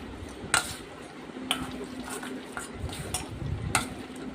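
Soft wet stirring with several sharp clicks of a spoon against a bowl at irregular moments, close by.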